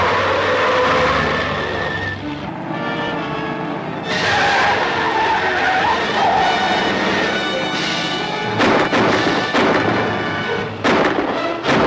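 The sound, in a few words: car chasing behind, skidding, in a 1945 film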